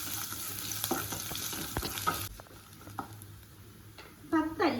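Crushed garlic, mustard seeds and curry leaves are sautéed in hot coconut oil. A close frying hiss with scattered crackles and stirring taps fills the first half, then quietens to a softer sizzle before a short burst of clattering near the end.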